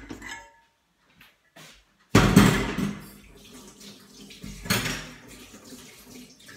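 Tap water runs loudly while a dough hook is cleaned, starting abruptly after a quiet stretch, with a second surge of splashing midway and faint clinks of the hook against the sink.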